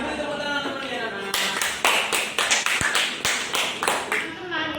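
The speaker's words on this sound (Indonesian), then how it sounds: "Diberi tepuk tangan teman-teman ya, anak." Students in a classroom burst into applause after a short stretch of talk, with quick, uneven claps close by and a voice still speaking through them.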